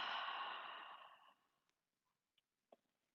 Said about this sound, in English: Nice long, deep exhale through the mouth.